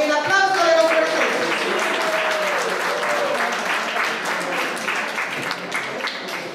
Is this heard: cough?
no